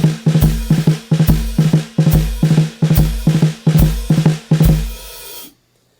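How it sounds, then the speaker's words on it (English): Drag rudiment played on a drum kit with a splashed hi-hat, repeated rapid double-stroke clusters falling into a steady pattern with low kick-like thumps, loud and close, then stopping abruptly into silence. "So with the drag, sounds like this."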